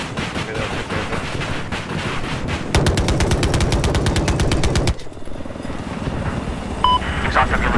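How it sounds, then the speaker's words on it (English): A helicopter in Battlefield 4 video game throbs with fast rotor beats amid bursts of machine-gun fire, loud and close, with the rotor chop strongest in the middle stretch and players talking over it. "Chopper below us."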